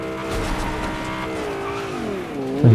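A car in the Fortnite game drives close up with a whining engine that rises and falls in pitch, sliding tones like tire squeal, and a loud bump at the end.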